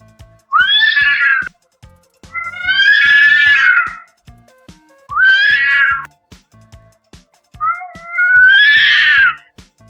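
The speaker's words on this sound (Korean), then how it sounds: "고양이 싸우는 소리를 입력해볼까요?" AI-generated sound effect of cats fighting: four loud, drawn-out yowls and screeches in a row, rising and wavering, with a faint steady ticking underneath and no voices.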